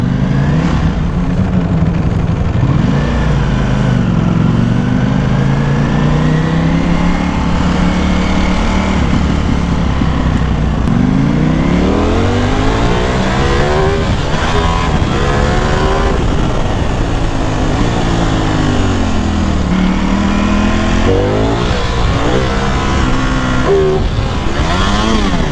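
A Hypermotard motorcycle engine runs loud and close throughout, its pitch repeatedly rising and falling as it is revved, while the bike struggles to go into gear because of a late clutch release.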